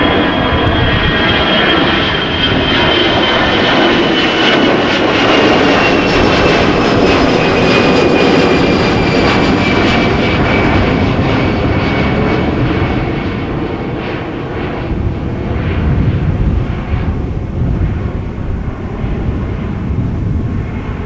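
Aer Lingus airliner at windy Amsterdam Schiphol Airport roars loudly and continuously, a powerful jet engine drone with a slowly shifting whine that stays close and steady for the whole stretch.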